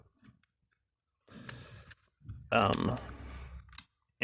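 Plastic clips pop loose from the case of a GPD MicroPC prototype laptop during a teardown, giving crisp clicks and snaps that are close and intermittent, with quiet stretches between them.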